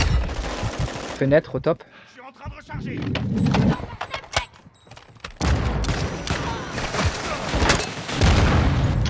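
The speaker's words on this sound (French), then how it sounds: "Je suis en train de tirer" Gunfire from the video game Call of Duty: Modern Warfare II: rapid shots and bursts mixed with booms and other game effects, with players talking over the action.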